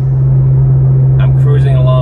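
A car fitted with bypass exhaust pipes cruises at 60 mph in seventh gear, giving off a loud, steady low drone that holds without a break under constant road rumble.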